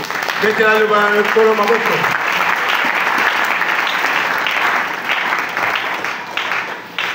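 A church congregation applauds loudly and steadily for several seconds, a voice heard briefly over the clapping at the start before it settles into a broad, sustained roar that fades slightly at the end.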